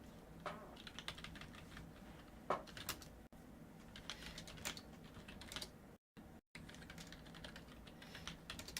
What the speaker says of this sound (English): I'm typing to one of the tournament people.